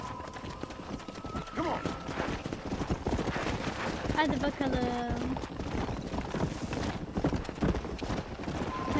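Horse hooves clip-clop in Red Dead Redemption while the horse snorts and whinnies, with a man urging it on in game dialogue over the steady, close rhythm of the hoofbeats.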